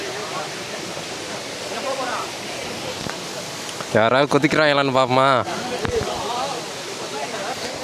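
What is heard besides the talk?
Gunung Pulai waterfall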